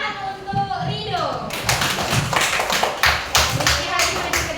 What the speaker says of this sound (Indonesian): Tepuk tangan untuk Rido.